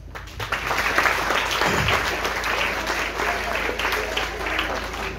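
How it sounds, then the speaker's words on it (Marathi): Audience applause fills a hall during a film editor and co-director's interaction session with students, a dense, steady clapping that stays loud and even for the whole stretch. "या दोघांसाठी टाळ्या."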